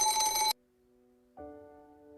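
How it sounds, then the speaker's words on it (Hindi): A telephone rings loudly in a home in one bright, tonal burst, falls quiet for a moment, then a softer second ring tone begins, with no talking over it. "हीना को फोन"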